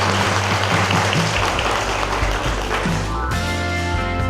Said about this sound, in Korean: 오늘 항생제 내성균 문제에 대해서 함께 고민해 주신 세 분께 다시 한번 큰 박수 보내주시기 바랍니다.